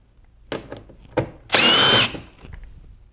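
A cordless power drill backs out 7mm screws on a C7 Corvette side skirt: a few sharp clicks and knocks, then a loud half-second whir of the motor, then fainter handling noises.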